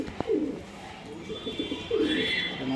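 Pigeons cooing close by, several soft low throaty coos repeating over a faint background hum.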